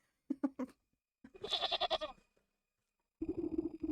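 Goat bleats from the video game Wytchwood come in three bursts, a short one, then a longer quavering cry, then another after a pause, close and fairly loud.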